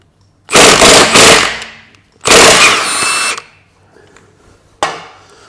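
An impact gun works on the suspension of a Rover 75, firing in loud close bursts of rapid rattling hammering: a two-second burst, another longer one, then a brief final jab after a pause.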